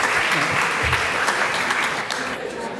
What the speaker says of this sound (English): a warm applause for my panel, Michel, Kimberly, Bob, and Christophe